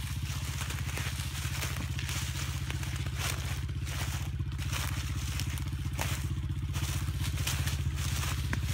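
Honda CRF70 dirt bike climbing a hill: a close, steady, buzzing engine with a rapid pulsing rhythm and rough crunching over the terrain, loud and continuous throughout.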